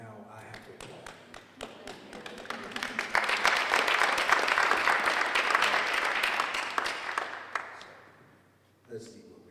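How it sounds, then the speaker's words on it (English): Applause at a June music event, building from scattered claps into a sustained round of clapping before fading into a brief quiet pause. "so now I have to applaud"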